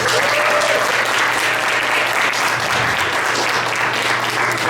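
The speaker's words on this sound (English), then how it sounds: "I'd like to everybody give a round of applause to the parents." Steady, dense applause from a banquet audience for the parents at a boys' water polo team dinner, loud and continuous throughout with a faint voice briefly beneath.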